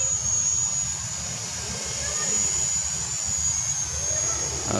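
An MJX 103W toy drone flies nearby, its rotors giving a loud, steady high-pitched whine over a continuous rushing hum throughout.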